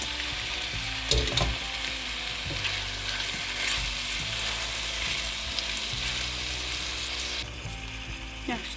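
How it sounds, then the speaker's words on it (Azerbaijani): Chicken and mushrooms fry together in a pan for chicken julienne, with a continuous close sizzle under repeated clinks and scrapes of stirring. "Göbələklə bir yerdə qovuracağıq."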